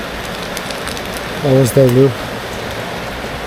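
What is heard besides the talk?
heavy rain falling during a motorcycle trip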